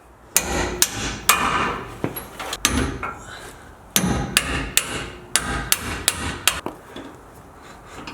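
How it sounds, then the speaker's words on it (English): A hammer taps a bolt out of a vehicle's suspension leaf spring shackle in a garage: a dozen or so sharp metallic strikes at an uneven pace, close and clear, with some rattling and shuffling between blows. "Next, I'm just going to tap this bolt right out."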